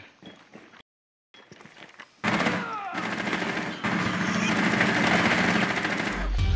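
Rapid automatic gunfire in Rainbow Six Siege on the Coastline map, shots punching through a wall, starting after a brief silence and building into a loud sustained burst alongside the clatter of the game.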